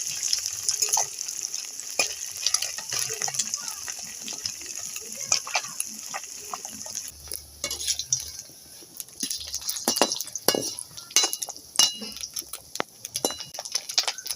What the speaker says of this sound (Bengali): এবার মাছগুলো উল্টে দেব।